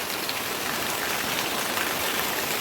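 A steady, heavy downpour of monsoon rain in Kodagu, a dense, even roar of drops on surfaces with no pauses or voices.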